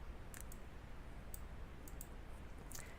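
Soft, close computer mouse clicks while running a SQL Server query, several short taps scattered over a steady hiss, faint and without talk.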